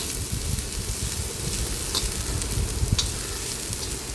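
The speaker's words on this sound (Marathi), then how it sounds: "तेल टाकल्याच्यानंतर परत आपल्याला एक ते दीड मिनटं मटकी अशीच परतू भाजून घ्यायची व्यवस्थित तेलामध्ये" Sprouted moth beans (matki) roasting in oil in a pan give a steady, dense sizzle, close and even throughout, with a couple of faint stirring scrapes against the pan.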